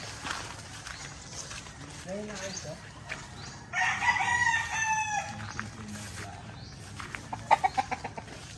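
Chickens and roosters at a cousin's chicken farm in Marinduque, with a rooster's crow rising mid-clip and later short repeated clucks, heard through ongoing background talk and outdoor noise.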